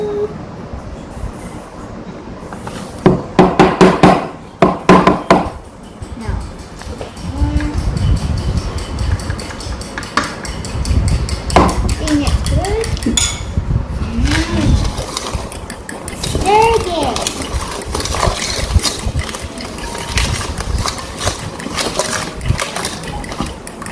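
Lemon cake batter is stirred with eggs in a bowl. A utensil makes repeated clinking and scraping sounds against the bowl, with a cluster of sharp knocks early on and a few faint vocal sounds in between.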